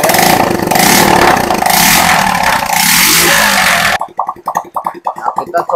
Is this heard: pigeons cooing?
no